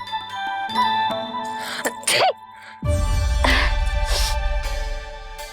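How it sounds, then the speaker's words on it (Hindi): A single sudden sneeze in a devotional Krishna drama scene, standing out after a soft musical background with bell-like tones, followed by a low rumbling music swell. "अभी छींक आई ना,"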